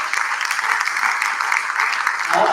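Conference audience applauding steadily, a dense even wash of many hands clapping that fills the whole stretch with no voices over it.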